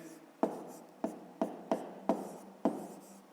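A pen strokes numbers onto paper in six distinct scratchy taps spaced about half a second apart, close and quiet in a still room.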